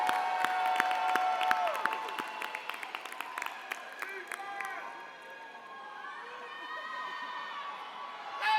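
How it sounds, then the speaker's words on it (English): A high school graduation crowd applauding the class of 2025, dense clapping and cheering with scattered shouts and whistles, fading to a murmuring crowd as the applause dies down. "Give them a round of applause."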